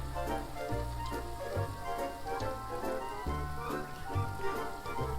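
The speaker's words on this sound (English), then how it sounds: "You hear it sizzle." A small test piece of food fries in hot oil, giving a continuous crackling sizzle like light rain, with a low hum steady underneath.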